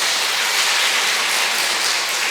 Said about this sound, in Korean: 우리 김승환 요한 형제님께 박수 한번 쳐주시고요.